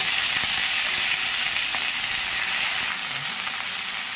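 Chopped red amaranth greens go into a pan of onions fried until lightly reddened, giving a steady, loud, continuous sizzle that eases slightly in the last second, with no voices.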